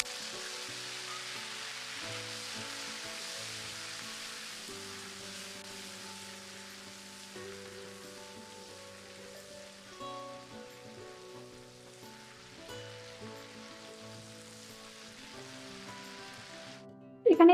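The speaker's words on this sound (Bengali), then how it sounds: "এবার এখানে খুব অল্প পরিমাণে কালো জিরে ফোড়ন দিয়ে টমেটোটা মিশিয়ে নেব।" Tomato pieces and nigella seeds fry in hot oil in a wok, a steady soft sizzle and crackle running close and continuous, with a brief louder clatter at the very end.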